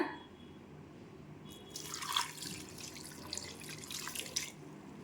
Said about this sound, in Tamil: தண்ணி ஊற்றி நான் 300 ml தண்ணி ஊற்றிருக்கேன்.